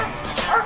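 A police dog lets out a short, close yelping bark during an arrest, a single sharp burst lasting under a second.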